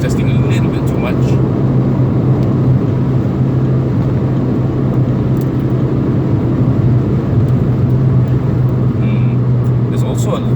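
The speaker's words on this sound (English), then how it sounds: "there a little bit more road noise in this car?" Constant loud road rumble and tire drone from inside a moving 2019 Proton Persona, a steady low hum filling the cabin throughout.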